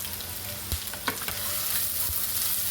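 Spam and onions sizzle in oil in a ripping hot wok, a steady loud frying hiss with a few clinks and stirring scrapes, close up and without voices.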